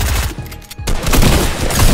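Dense gunfire from a Fortnite match, a steady barrage of overlapping shots and booms that stays loud and continuous for the whole stretch, with only a short dip near the middle.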